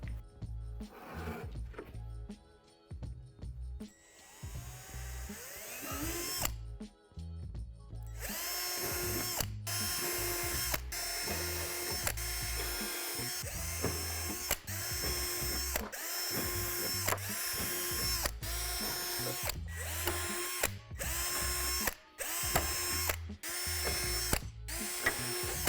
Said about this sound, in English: drill out the 5 divots on each side with the provided drill bit